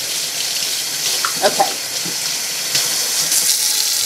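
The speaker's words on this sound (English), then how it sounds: "I'm going to get my water nice and hot" Hot tap water runs steadily into a sink, a constant broad hiss throughout, with a brief spoken word partway through.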